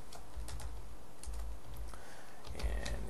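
Quiet, rapid keystrokes on a computer keyboard while FFmpeg arguments are entered, with bursts of clicks separated by short pauses and no voices.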